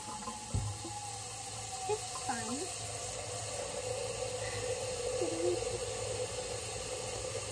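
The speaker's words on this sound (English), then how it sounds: "I'm just gonna fill this up with water." A pot filling with water from a kitchen tap, a steady close hiss of running water, with a few brief voice sounds and light knocks of the pot over it.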